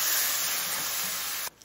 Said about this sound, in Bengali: সামান্য একটু জল অ্যাড করে দিচ্ছি যাতে মশলাটা পুড়ে না যায়।